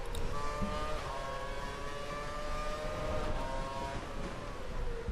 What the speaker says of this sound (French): Je vous laisse écouter un petit peu les moteurs.